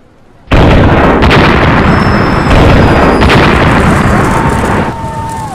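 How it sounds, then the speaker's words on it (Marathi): A staged car bomb explosion on a road in Pune, mocked up as part of a show, erupts as one sudden loud blast that holds as a dense, roaring, rumbling wash for several seconds before easing off slightly. "पुण्यातील जंगली महाराज रस्ता चारचाकी बॉम्बस्फोटाने हादरला"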